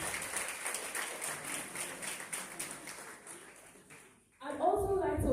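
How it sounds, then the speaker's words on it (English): Applause for a speaker at a student debate competition: steady broadband clapping from an audience for about four seconds, fading briefly before talking begins near the end. "Let's give her a round of applause."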